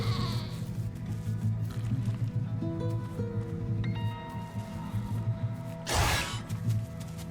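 Goats bleat in a dinosaur survival game, a couple of short bleats over a steady game soundscape with a brief rustling burst near the end.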